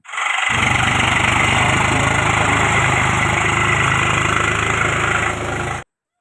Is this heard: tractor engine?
yes